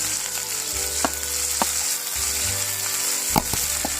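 Onions sizzle steadily in hot oil for a ladies finger curry, a close, continuous frying hiss with occasional soft clicks of a spoon against the pan, and no voices.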